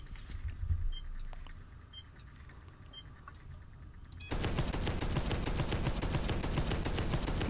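A sentry turret in Space Hulk: Deathwing, with faint electronic beeps and low rumble giving way abruptly to loud, continuous rapid-fire shooting that keeps going without a break.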